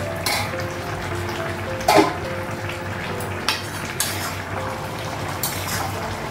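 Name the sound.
lifting the lid off a cooking pot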